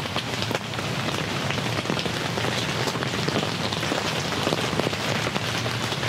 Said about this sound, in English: We're not going to stay completely dry with all the rain that we're going to be getting